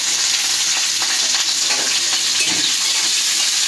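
Dried loitta fish (Bombay duck shutki) frying in hot oil gives a steady, dense sizzle with crackles and small pops throughout, close and loud, with no voices.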